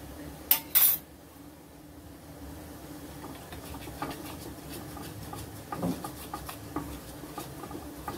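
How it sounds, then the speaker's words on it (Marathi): A spoon stirs dhokla batter mixed with a quarter teaspoon of soda in a bowl, giving soft, steady scraping and light tapping, with a couple of sharper clinks at the start. "आता परत आपण खलवून घेऊया छान"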